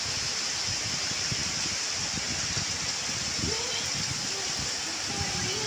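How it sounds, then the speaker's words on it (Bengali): Heavy rain falls on leaves in a steady, even wash of hissing patter, continuous throughout with a faint voice briefly audible beneath it. "এই পাতার উপর বৃষ্টিগুলো পড়ছে তো দারুণ লাগছে দেখতে।"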